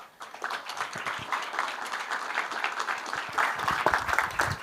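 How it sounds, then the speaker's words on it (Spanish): Conference audience applauds after an open-source business strategy talk, a full sustained clapping from the crowd that builds slightly toward the close. "fuerte el aplauso para María Cruz"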